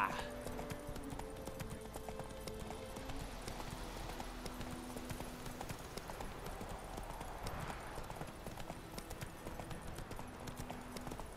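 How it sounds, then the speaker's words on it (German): A horse gallops in The Witcher 3 with a steady, rhythmic clip-clop of hooves, game music tones and light voice chatter mixed in. "Ja, wir reiten doch schon galopp, Mensch."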